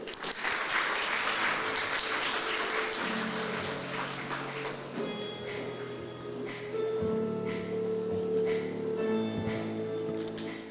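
Warm audience applause at a morning sustainability focus session in Manila, sustained steady clapping from a large crowd filling the full length, with some murmuring underneath.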